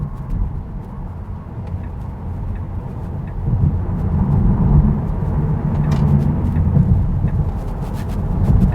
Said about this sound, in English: the moment you get on the throttle,